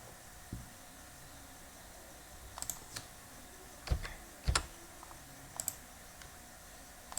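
Someone types a file name on a computer keyboard: a quiet, sparse run of individual key clicks and taps, close by and without voices, with a soft background hiss.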